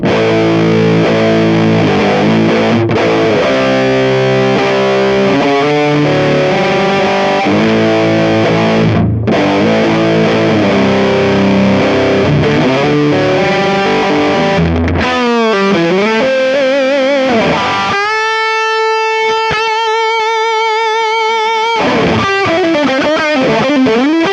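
A heavily distorted electric guitar through a Kemper Profiling Amp with drive at maximum plays loud, fuzzy chords and bends, then sustained screaming notes with wobbling vibrato, harsh and saturated throughout.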